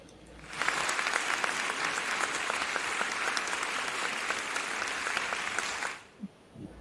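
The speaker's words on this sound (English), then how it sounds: "I do have a clap sound effect here." Sustained applause effect of many hands clapping, dense and steady at moderate loudness for about five seconds before cutting off abruptly, followed by a brief quiet knock.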